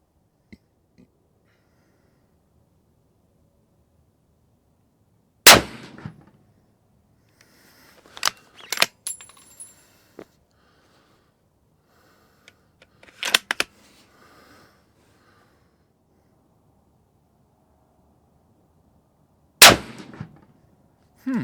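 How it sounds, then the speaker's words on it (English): A 300 PRC rifle fires at a bullseye target 100 yards away from the prone position, sharp shots separated by long quiet gaps, with quieter clicks and clatter of the bolt action between them. "I'm shooting this bullseye target at 100 yards from the prone position"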